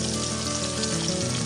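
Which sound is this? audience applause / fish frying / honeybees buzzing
fish frying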